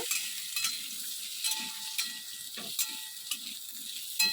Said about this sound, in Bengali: এখন কড়াতে দেখো বসিয়ে দিয়েছি আলু পোস্ত